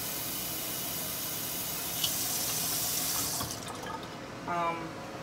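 Tap water pouring into a soup pot for chicken soup: a steady hissing stream that stops partway, followed by a brief gurgle and splash.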